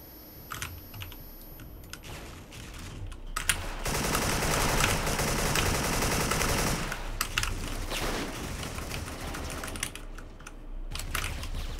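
Automatic gunfire in the shooter game Special Force comes as dense, loud bursts, first scattered, then one sustained rattling volley lasting several seconds, then trailing off into scattered shots.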